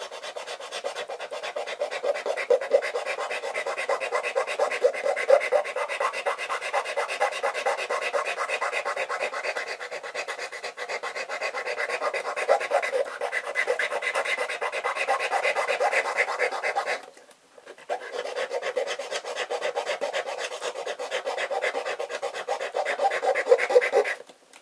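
A wooden piece is sanded during a guitar repair, giving a steady, close, rasping scrub that runs nearly continuously with one brief pause.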